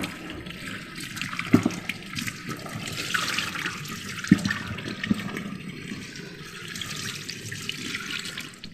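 Tap water runs steadily over soaked, cut potatoes being rinsed in a kitchen, with a few soft knocks and clinks as the pieces are handled and no talking.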